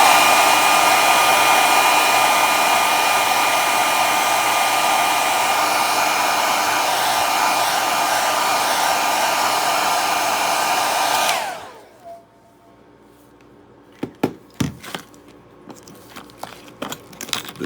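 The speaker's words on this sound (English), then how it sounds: "The blow dryer on high is hot enough." A hair dryer set to high heat blows steadily and loudly, used to warm and loosen a screen during a phone screen repair, then cuts off abruptly, leaving quiet with a few small clicks and taps.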